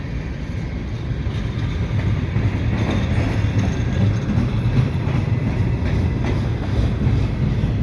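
A CPKC freight train rumbles through Dorval in winter, its cars passing close in a continuous roar with faint wheel squeal and rhythmic clatter until the tail end goes by.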